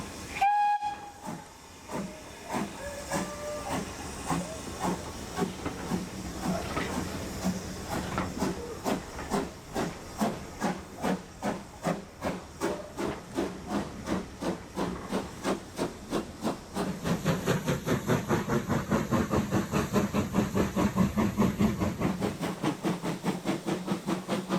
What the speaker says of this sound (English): The train has now departed to take us back to Oakworth for our final stop of the day.